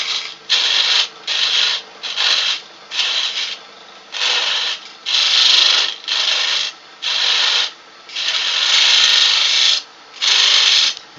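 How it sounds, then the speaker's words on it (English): A wood gouge takes aggressive roughing cuts on a lathe while turning a goblet, a loud scraping, rasping hiss that comes in about a dozen regular bursts of roughly half a second to a second and a half, each separated by short pauses. "These are quite aggressive cuts that I'm doing, just to get rid of the bulk"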